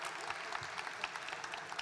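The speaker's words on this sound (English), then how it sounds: "Come on, round of applause, guys." Audience applause at a Somali Week Festival launch event, a steady patter of hand claps from the crowd lasting throughout at moderate volume, with no speech over it.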